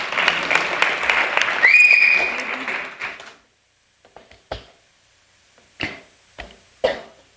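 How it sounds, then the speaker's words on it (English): Audience applause at a Bharatanatyam dance recital, sounding as dense, loud clapping for about three seconds before fading out, followed by a few scattered isolated claps and taps in the quiet. "Ladies and gentlemen, let's give a big round of applause to Pavitra Sundar."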